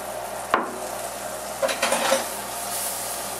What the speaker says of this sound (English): Now that our butter's melted, see it's sizzling a little, but you don't want to burn it.